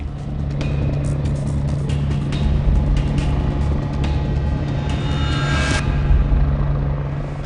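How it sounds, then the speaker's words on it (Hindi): A helicopter lands on a helipad at a political rally in Rajasthan, India, a steady loud rotor rumble and engine drone running throughout with no talk. "धूल उड़ाता हुआ हेलीकॉप्टर हेलीपैड पर लैंड कर रहा है।"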